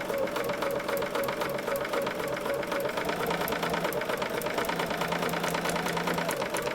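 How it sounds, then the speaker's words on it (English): A sewing machine stitching quilt block fabric runs with a fast, steady mechanical whir and rapid needle ticking, close and continuous throughout. "We're going to just sew right on that line"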